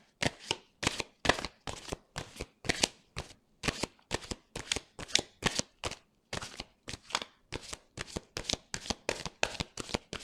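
Oracle cards being shuffled by hand: a quick, steady run of crisp riffling slaps, about two per second, close and clear with no talking.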